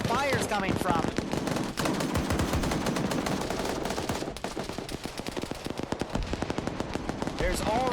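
Rapid, continuous gunfire from BTR armored vehicles in Arma 3 trench warfare, dense bursts of automatic fire crackling loudly throughout with a voice talking over it.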